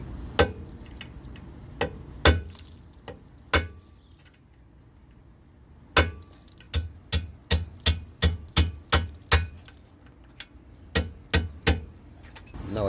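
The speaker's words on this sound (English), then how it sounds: "use a hammer, and I'm hitting the other end with a hammer." Sharp metallic hammer blows striking a punch on a brake pin of a 2011 Camaro SS, a few spaced hits, then a quick steady run of about a dozen ringing strikes, close and loud.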